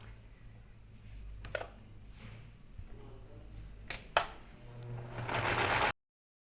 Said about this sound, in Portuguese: Eu vou dar uma rebatida na costura,